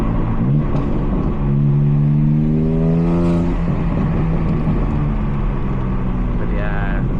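A BMW M3 G80 LCI with its secondary cat and resonator deleted drones deep and loud at low revs, its pitch rising steadily, then easing off and swelling again. A voice speaks faintly under the exhaust.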